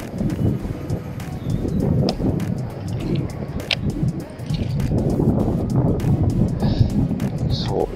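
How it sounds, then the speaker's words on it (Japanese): Wind gusts roar steadily at a remote mountain spot on Mindanao, Philippines, a broad low rumble buffeting the microphone for the whole stretch, with faint bird coos and chirps on top. "まだ風吹いて、吹くね。"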